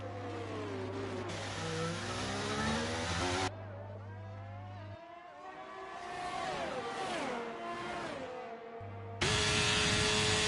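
Race cars roaring around the Las Vegas track in a sim racing game, several engines revving and shifting with rising and falling pitch, close by and sustained, with sudden cuts between cars and no talk.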